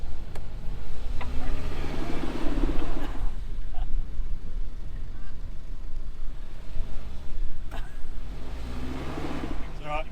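Suzuki Jimny engine straining as it tries to tow a bogged Trailblazer free, a steady rumble with revving surges near the start and end, heard under shouted talk outdoors.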